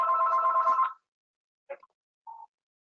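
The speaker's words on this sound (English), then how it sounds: "I'm sorry about the phone ringing in my back here" A telephone rings in the background of a virtual support group call: one long bell ring for about a second, then two short, quieter partial rings with silence between them.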